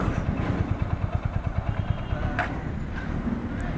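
Motorcycle engine idling while parked on a roadside, a close, steady low putter of rapid regular pulses that fades after a couple of seconds into faint background noise.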